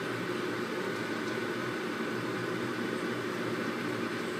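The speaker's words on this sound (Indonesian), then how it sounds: "Sekarang ini tempat kukusannya atau alat pengukusnya, airnya sudah mendidih" Water boiling in a steamer pot for steamed sticky-rice cake gives a soft, continuous hiss and rumble at a steady, low level.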